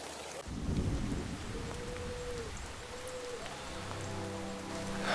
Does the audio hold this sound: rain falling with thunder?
yes